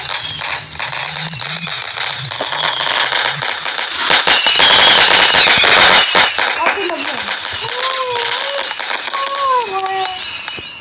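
Firecrackers burst outdoors in a dense run of sharp crackling pops and rattling fizz, loud and close, while people talk and exclaim over them.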